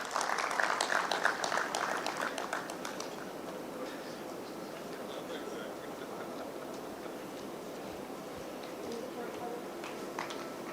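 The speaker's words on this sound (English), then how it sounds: "Round of applause, please, for Mr." Applause from an audience at an annual microfinance conference, fairly strong in the opening seconds and then fading into scattered claps under a speaking voice.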